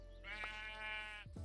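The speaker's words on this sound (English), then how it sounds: "I spy a sheep" A Minecraft sheep lets out a single wavering bleat lasting about a second, clear and fairly close, then quiet shuffling sounds follow.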